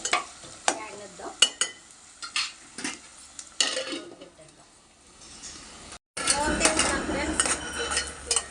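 Potato korma fries in a pan while a utensil stirs and scrapes, giving irregular clinks and knocks over a low sizzle, then after a brief gap the frying grows louder and busier.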